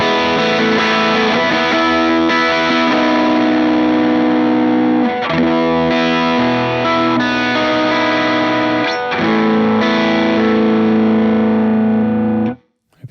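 Electric guitar through an MXR Duke of Tone overdrive pedal with the drive at its minimum plays loud, lightly crunchy strummed chords and riffs, ringing out before an abrupt stop at the end.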